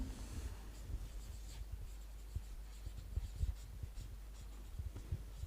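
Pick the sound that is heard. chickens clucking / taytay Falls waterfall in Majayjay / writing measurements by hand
writing measurements by hand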